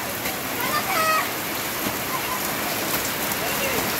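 Steady rain falls on a cloudy day, a dense, even patter and hiss of drops on surfaces close by, with voices talking faintly beneath it.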